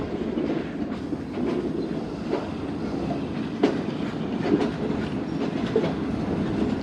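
The Pak Business Express train, running late in fog, rolls into Rohri Junction with a loud, steady rumble and clickety-clack of wagon wheels, plus a few sharper metallic knocks, heard from close by on board.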